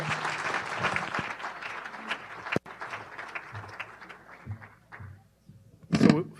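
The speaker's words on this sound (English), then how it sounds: "Let's give a round of applause, please." An audience applauds after a presentation on rural broadband economics, a thick burst of clapping that thins out and fades into scattered claps and a few sharp taps, with a brief loud noise near the end.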